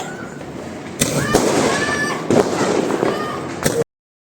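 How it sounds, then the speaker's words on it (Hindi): Firecrackers set off during Diwali: loud sharp bangs and crackling bursts, with a few distinct pops standing out against continuous crackle and whistles, then cutting off abruptly. "और छोटे छोटे बच्चे भी पटाखे चला लेते हैं"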